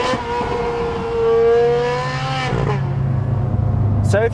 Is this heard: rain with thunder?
no